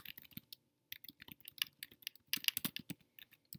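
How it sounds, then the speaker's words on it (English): Quiet, irregular clicking of fingers typing on a computer keyboard, with bursts of keystrokes broken by brief pauses and no voices. "So we go ahead and type our answers."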